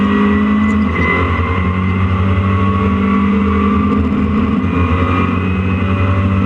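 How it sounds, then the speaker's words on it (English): Racing cars, a BMW followed closely by a number 121 Renault Clio, pass at Donington Park, their engines a loud, sustained droning whine that carries steadily throughout. "And the BMW comes through now, but with Ben Davis, number 121's Clio, right behind it."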